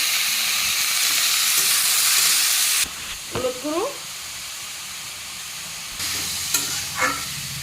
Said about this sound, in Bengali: এখন দিয়ে দিই বাঁধাকপি দিয়ে দিচ্ছি লবণ